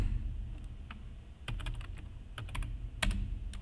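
Scattered keystrokes and shortcut presses on a computer keyboard, irregular crisp clicks over a steady low background hum, fairly close and unaccompanied by speech.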